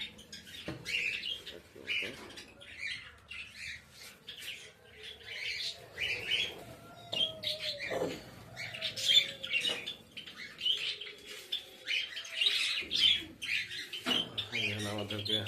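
Pet birds being fed and watered chirp and tweet in quick, repeated bursts, fairly soft and close, with faint rustling between calls.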